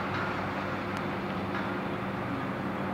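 Continuous rumbling roar of a train moving along the track, loud and steady throughout with no voices.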